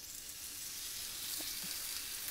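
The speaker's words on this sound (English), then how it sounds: "now I hear it sizzling and cracking at me" Steady, close sizzling of chicken kebabs in olive oil searing on a hot grill plate, with faint crackles and pops through the hiss.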